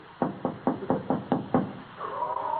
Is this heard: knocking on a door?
yes